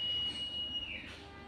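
Economy-class train departing Ngadiluwih station at night, a steady rumble of rolling stock with a sustained high-pitched tone, likely the wheels squealing, holding for most of the moment then fading as the carriages pull away.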